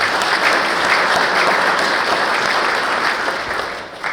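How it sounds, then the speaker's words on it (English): Audience applause at a government technology conference: dense, steady clapping from a sizeable crowd filling the room for about four seconds, tapering slightly at the end, with no talking over it. "Let's give them a round of applause."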